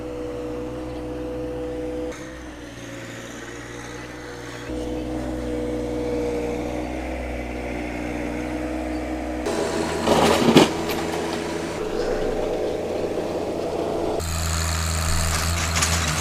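A compact tractor's engine runs steadily while its loader scoops dirt in a backyard, the hum shifting in pitch as the throttle changes, with a brief clattering burst midway.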